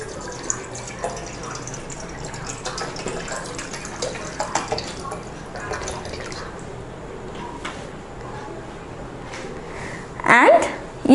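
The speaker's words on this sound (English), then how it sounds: "I am going to pour water" Water pours and trickles into a container, a steady splashing stream with drips, then a louder gurgling burst near the end; a voice speaks faintly.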